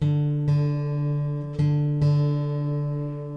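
A plucked guitar string rings out repeatedly, each pluck sustaining with a clear steady pitch as the fifth and fourth strings are tuned, four attacks over a few seconds.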